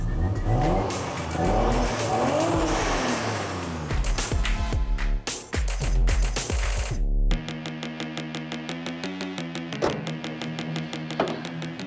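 A warmed-up car engine revs in short bursts, with a faint whistle riding over the rising pitch, then settles into a steady hum with a few sharp blips, heard close up without speech.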